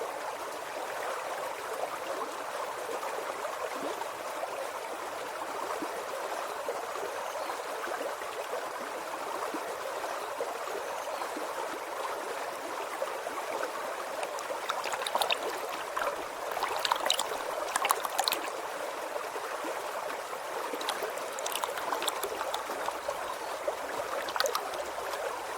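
River water flowing below a weir, a steady broadband rush and gurgle running continuously, with brief brighter splashes midway and toward the end.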